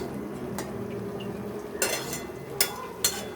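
Egg curry masala is stirred and sautéed in a pan, a low background sizzle punctuated by a few sharp scraping clinks of a spoon against the metal pan.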